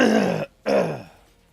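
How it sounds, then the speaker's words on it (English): Two rough throat-clearing grunts from one person, close and loud, separated by a short pause, the second trailing off into quiet. "That was me clearing my throat."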